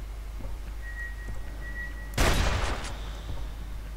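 Two sharp gunshots from the Aliens vs Predator video game, fired in quick succession as a loud broadband burst with a short ringing tail, following a quiet stretch of ambient hum and a faint tone.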